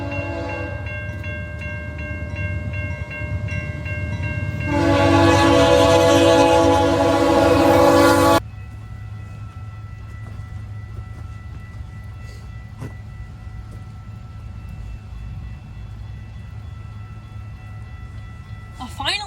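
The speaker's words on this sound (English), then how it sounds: "It's a Via train. Here comes Via 22. Is that what it is? It's a Siemens charger set." A Via Rail passenger train hauled by a Siemens Charger locomotive rolls past with a loud, steady roar that swells in the middle and then falls to a lower rumble. Tonal bell or horn notes ring throughout.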